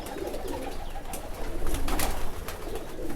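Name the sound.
Shikra pigeon cooing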